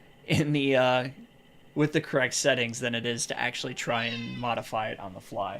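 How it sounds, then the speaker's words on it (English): A pet cat named Nala meows once, close and clear, indoors in a quiet room, followed by someone talking steadily. "That's my cat coming to say hello."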